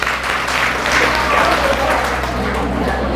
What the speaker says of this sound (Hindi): तालियां बजाओ आप सबके लिए